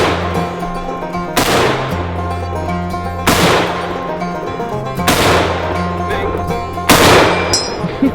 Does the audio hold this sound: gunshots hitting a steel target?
yes